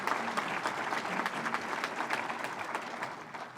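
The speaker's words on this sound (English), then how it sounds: "So let's give these two gentlemen a round of applause and appreciation for their tremendous dedication" Audience at a community development organization's annual meeting applauds, a steady wash of many hands clapping throughout, fairly even and sustained without spoken words.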